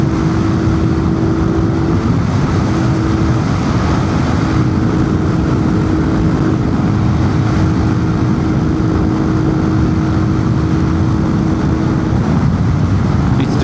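A Honda Cub motorcycle with custom front suspension bushings being ridden, its small engine droning loud and steady alongside heavy wind rush, with one sustained tone shifting slightly as it runs.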